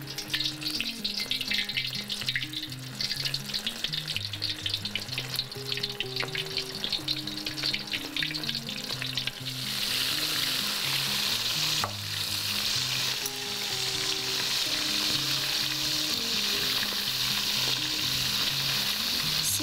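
Thin slices frying in hot oil for a Chinese takeaway-style dish, a continuous loud bubbling sizzle that grows denser and hissier partway through, with soft utensil sounds underneath.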